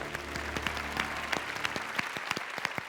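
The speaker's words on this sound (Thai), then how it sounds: "ขอเสียงปรบมือดังให้กับคุณอาดุครับ" Studio audience applauding a departing contestant on a Thai code-breaking game show, a brisk round of clapping over a low hum with individual claps standing out, fairly near and moderately loud.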